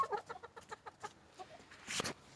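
A backyard hen clucking in a quick series of short, close clucks, then a louder, brief burst of noise near the end, with no talk.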